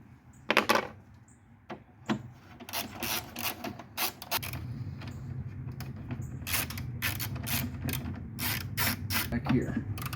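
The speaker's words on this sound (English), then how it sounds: "Okay, let's take out these 10mm bolts." A hand ratchet clicks rapidly in bursts while backing out 10mm bolts around the computer box of a 1998 Chevy Blazer, sharp pawl ticks up close with quiet gaps and faint handling noise between runs.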